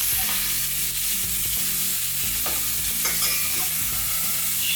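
Onions fry on a hot griddle under Oklahoma-style cheeseburger patties, making a close, loud, unbroken sizzle. Low rumbling tones and occasional scraping ticks from the spatula sound underneath the hiss.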